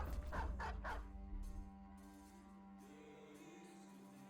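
War dogs in Battle Brothers bark in a quick run of three or four yips near the start, then a steady tonal hum of game music carries on beneath a faint, brief bark later on.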